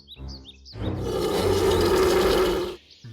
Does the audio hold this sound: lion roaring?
yes